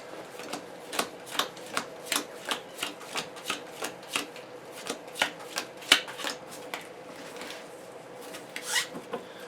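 Cards being shuffled for a Marvel Champions card game, a steady run of about twenty crisp riffling bursts in quick rhythm, close and clear, with no talking.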